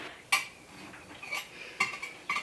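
A knife scrapes and clinks against a pan while cutting cranberry white chocolate blondies, a few light metallic taps and scrapes spaced out, close and quiet, with no talk.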